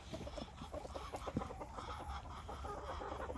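Silky and Frizzle bantam hens sitting on a clutch of bantam eggs cluck softly and continuously, a faint, murmuring run of low clucks heard close by with no talking.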